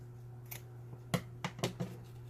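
Scissors snip through ribbon while making a baby hair bow, several sharp short cuts in quick succession, fairly close and quiet against a steady low hum.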